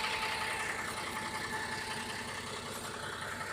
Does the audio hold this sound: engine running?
yes